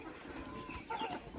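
Rooster and hens on a small farm clucking, a few close, fairly loud clucks and calls over a steady rural background.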